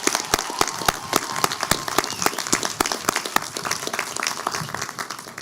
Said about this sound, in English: Let's give the class of 2021 a round of applause